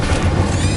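Incendio fire spell cast in Hogwarts Legacy on PS5, a short loud whooshing burst of flame with a low booming rumble, lasting under a second.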